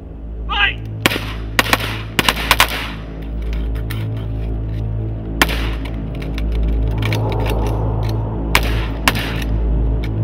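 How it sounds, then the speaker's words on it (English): Police officers on a training range fire handguns in several sharp, loud shots, a quick cluster early on followed by single reports spread across the span, with faint voices in the background. "Upon the command of fire, you're going to fire 1 round, center body mass."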